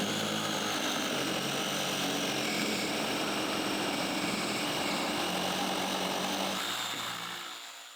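A Metabo jigsaw saws steadily through material roughly 12 to 13 cm thick, giving a loud, continuous buzzing whine that holds for several seconds and then tapers off at the end.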